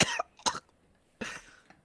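Three short, dry coughs spaced apart, close and fairly quiet, with silence between them.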